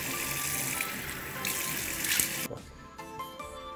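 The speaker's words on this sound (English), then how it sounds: "I wash my face" Water runs steadily from a bathroom tap into a sink during face washing, a loud close hiss that cuts off partway through, leaving faint drips and quiet handling sounds.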